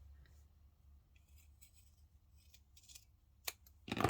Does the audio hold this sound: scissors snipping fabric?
yes